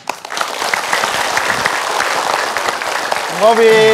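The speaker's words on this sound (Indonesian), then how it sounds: "Tepuk tangan." Audience applause at an Islamic preaching program welcoming a preacher, a dense wash of clapping that continues steadily before a voice and a tonal sound come in at the very end.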